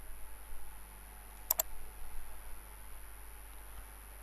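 A computer mouse clicks twice in quick succession while someone steps through a software installer, sharp faint clicks in an otherwise quiet room with a low steady hum.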